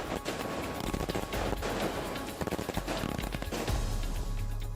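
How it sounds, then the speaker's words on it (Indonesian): Rapid, dense crackling bursts of fireworks going off continuously, loud and layered, with sharp pops overlapping throughout. "ini rasa syukur kita menyalakan kembang api malam ini ya"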